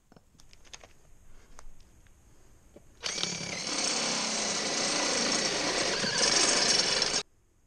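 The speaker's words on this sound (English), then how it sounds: "piloted with a 4mm drill bit before going all the way with the multi-hole tool" A power drill with a step drill bit whines steadily into metal for about four seconds, loud and close, after a few light taps and clicks, then stops abruptly.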